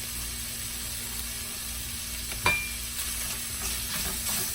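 Chorizo frying in a pan, a steady bright sizzle running throughout, with a single faint clink partway through.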